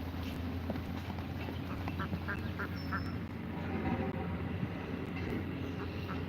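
Ducks, likely mallards, quack at a rock by the water, fairly faint and somewhat distant over a steady low rumble of background noise.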